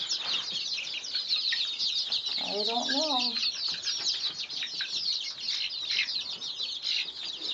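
Chickens cluck and crow in a barn full of hens, a brief rising rooster-like call standing out near the middle over a steady busy flock chatter, with a voice speaking briefly.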